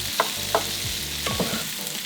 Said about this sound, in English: saute those in with the onions and the peppers